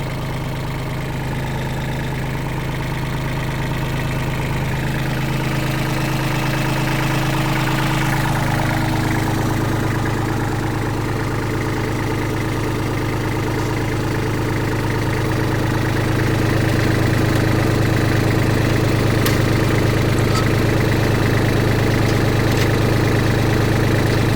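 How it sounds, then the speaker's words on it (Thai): A Kubota L2605 farm tractor with a 27-horsepower engine idles steadily nearby, a continuous low rumble with a deep hum that shifts slightly partway through, no talking over it. "รุ่นยอดนิยมครับ L2605 เครื่องยนต์27 แรงนะครับ"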